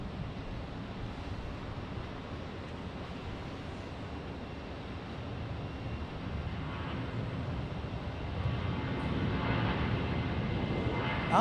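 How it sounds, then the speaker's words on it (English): A Southwest Airlines Boeing 737-700 jet taking off from runway 19R at Tampa International Airport, a distant broadband engine roar that builds gradually and grows louder toward the end, with wind noise. "Southwest Airlines taking off on runway 19"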